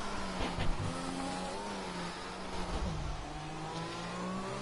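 A Formula 1 race car engine in a sim-racing video game at the Canada circuit, screaming steadily at high revs with its pitch rising and dropping through gear changes and a downshift to first, loud and continuous with no talking.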